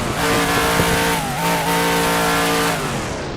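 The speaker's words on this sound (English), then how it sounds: "That is the sound of the V8 engine," An Aston Martin V8 Vantage's V8 engine roars steadily in a racing game at Bahrain International Circuit, a loud, sustained drone that wavers slightly in pitch with faint tire noise.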